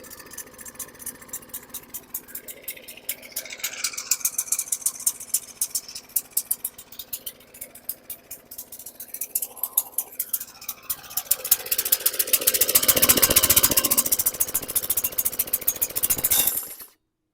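A 2018 Troy-Bilt TB110 lawn mower engine with a carburetor fault, sputtering and spitting fuel, running rough with uneven rattling pulses that build into a louder harsh burst near the end before cutting off.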